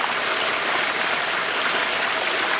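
Fish splash at the water surface while feeding, a dense, continuous churning wash of water that stays loud and close throughout, with no talk.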